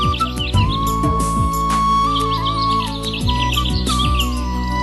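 Birds chirp in a spring orchard full of fruit trees, quick bright calls repeating over a steady bed of music.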